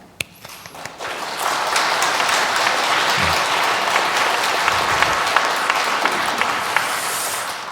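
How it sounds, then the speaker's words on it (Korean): At a Catholic parish Sunday Mass, the congregation applauds a Sunday school teacher receiving a five-year service award: a few scattered claps swell into full, steady applause that continues loudly throughout. "박수 부탁드립니다"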